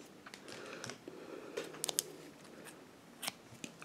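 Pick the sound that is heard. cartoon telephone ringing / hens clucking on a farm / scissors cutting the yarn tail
scissors cutting the yarn tail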